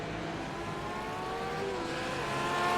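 GT3 race cars, a Lamborghini and a Porsche, racing in a video game at the Adelaide circuit, with a steady engine drone that holds at a constant level and grows slightly louder toward the end.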